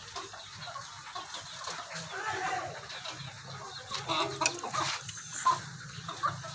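A small flock of Aseel chickens clucks and murmurs softly near and far while being scattered grain in a yard, with steady low background noise.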